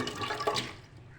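Soaked masoor lentils and water poured into a cooking pot, a brief splashing rush of liquid that swells, then trails off into quiet.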